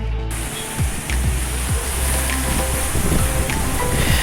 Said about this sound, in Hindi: यहाँ पर आके लहरें बहुत तेज़ लगती हैं और काफ़ी हाइट से उछलती हैं।